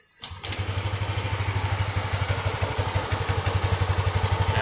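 A Yamaha Aerox 155 scooter under repair cranks over and fires up, then settles into a steady, close, rhythmic idle with a pulsing mechanical clatter, and no talking.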